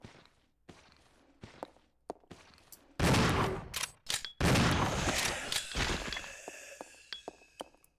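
Gunfire from the Resident Evil 0 video game, with a few scattered sharp shots followed by dense bursts of loud, rapid fire that ring out and then fade into sparse clicks and impacts.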